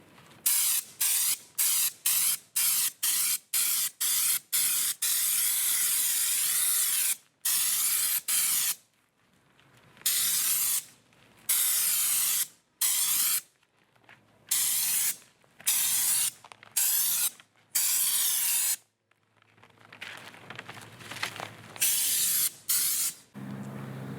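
A spray gun applies Raptor liner coating to a vehicle chassis and wheels, firing in loud, close hissing bursts, quick and regular at first, then longer sprays with short silent gaps.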